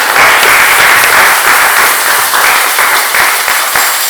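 A church congregation at a Sunday service claps and cheers loudly and steadily to acclaim the Lord, a dense continuous applause throughout.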